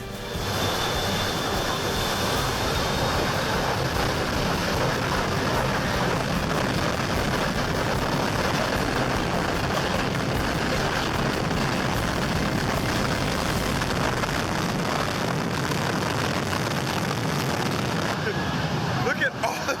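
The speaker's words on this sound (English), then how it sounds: "A man stands upright between two roaring jet engines." Two jet engines roar steadily and loudly at an airport as a man stands upright between them, a dense continuous broadband rush with no pause for nearly twenty seconds.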